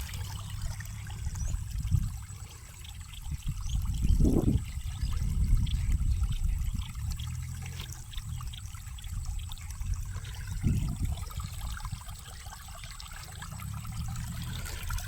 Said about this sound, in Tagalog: Malakas pa rin pasok ng tubig.